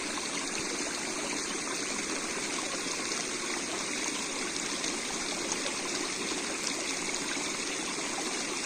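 River water pours steadily over a traditional village weir of stacked soil-filled sacks and stones, a continuous bright rushing and trickling wash heard nearby with no voices.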